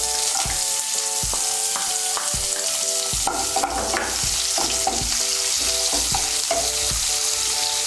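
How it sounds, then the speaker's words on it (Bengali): Chopped medium onion frying in hot oil in a pan for a cauliflower curry, a steady loud sizzle broken by repeated metal spatula scrapes and knocks as it is stirred, with no talking. "পেঁয়াজটাকে হালকা একটু ভেজে নেব"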